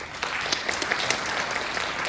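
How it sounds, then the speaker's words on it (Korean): Forum attendees applaud to welcome an arriving city council committee chair, a steady, moderately loud wash of many hands clapping with a few sharper individual claps standing out, no speech. "여러분 뜨거운 박수로 환영해 주시기 바랍니다"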